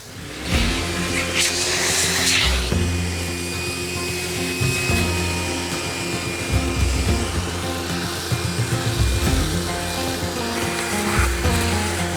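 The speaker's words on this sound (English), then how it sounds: "I'm gonna get the vacuum and vacuum this out" A loud, steady vacuum cleaner roars nearby, cleaning out an airplane left abandoned for 15 years, its drone shifting with clunks and rattling as piles of debris get sucked up.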